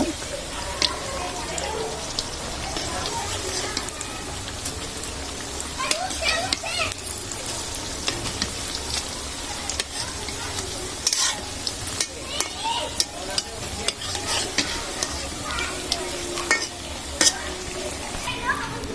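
Cabbage pakoras fry in hot oil with a busy, continuous sizzle, broken by scraping and clinks as the fritters are turned in the pan, with a person talking now and then.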